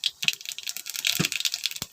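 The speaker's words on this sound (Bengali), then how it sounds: "মাছ ভাজা তেলে কালো জিরে ফোড়ন দিলাম" Black cumin seeds spluttering in hot oil left over from frying fish, a rapid run of sharp, close crackles and pops, loud and irregular, alone without talk.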